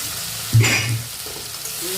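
Potatoes and sugar being fried and stirred in oil for a paneer curry, a sudden loud burst of sizzle as they hit the pan, then a steadier frying hiss.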